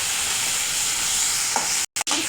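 Crushed turkey berries frying in a pan make a steady, close, even sizzle with no talk, ending in two abrupt cuts to silence.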